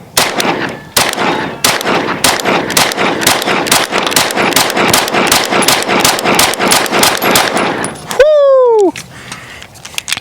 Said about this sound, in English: Shooting some SuperVel 115, and this is the SIG Spectre comp slide